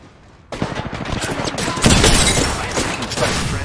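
Rapid bursts of gunfire ring out in the Apex Legends video game. Dense volleys start abruptly and continue loud and close for several seconds, with no talk over them.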